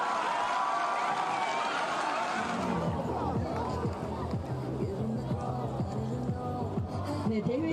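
A golf gallery applauds the winner after a tense KLPGA tournament playoff; clapping and crowd noise sit under a commentator's steady talk that continues throughout.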